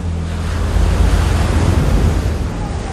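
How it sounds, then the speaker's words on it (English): Ocean surf surges in as a broad, loud roar of washing water with low rumble and windy hiss, swelling slightly mid-way and staying constant. "Pacific tidal wave, 1 mile high, sweeps in"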